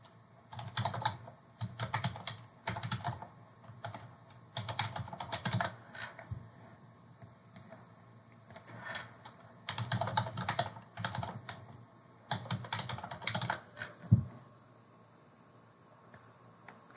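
Fingers typing a name and email address on a computer keyboard, close and clear, in irregular bursts of rapid keystrokes separated by short pauses.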